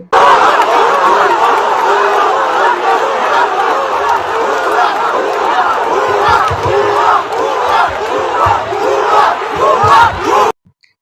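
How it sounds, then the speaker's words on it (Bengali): Angry student protesters chant slogans as a dense, loud crowd, voices massed together in a steady roar for about ten seconds, then cutting off abruptly. "বিক্ষুব্ধ ছাত্রছাত্রী সেখানে ভুয়া ভুয়া স্লোগান দিলেন"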